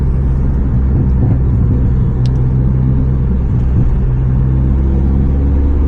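A Nissan GT-R R35 accelerating along a straight road, heard as a loud, steady low engine rumble and road roar from inside the car, with no talking.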